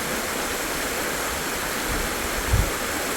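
A stream near a herd of elephants at Mannarappara rushes in a constant broadband wash, with a brief low thump near the end; no animal calls stand out.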